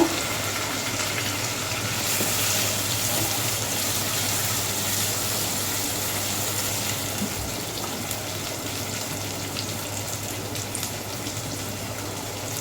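Onions and curry leaves fry in a pan for an arvi ka salan, giving a steady, dense sizzle that holds at an even level throughout with no talking.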